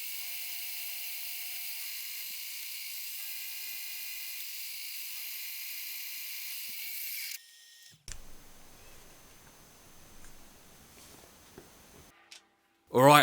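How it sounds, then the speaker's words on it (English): A 2 mm end mill cuts a slot at high RPM for a hydraulic gear pump part, giving a steady, high-pitched spindle whine for about seven seconds. A quieter, rougher stretch of cutting noise follows, then a brief loud burst at the end. "to make the slot I'll use a 2mm end mill, crank the RPM up"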